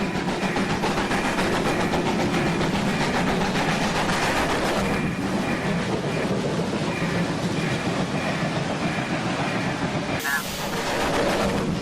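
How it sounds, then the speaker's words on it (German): Freight train sound effect on an N-scale model railway: a loud, steady rumble and clatter of wagons passing through, with a brief change in tone near the end. "An Gleis 3 fährt ein Güterzug durch."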